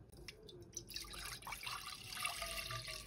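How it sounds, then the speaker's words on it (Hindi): Water is poured into a kadai (Indian wok) to make steam, a soft trickling and splashing that is fairly quiet and close, with no talking. "अब हम 2-3 गिलास पानी डाल देंगे।"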